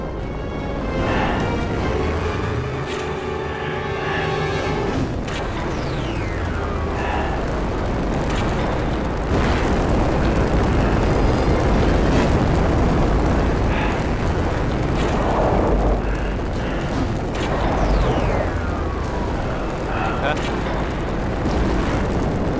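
Vents exploding after being shot in a Star Trek game, heavy booms and roaring blasts over a dense rumbling backdrop with sweeping whooshes, loud and continuous, with voices speaking over parts of it.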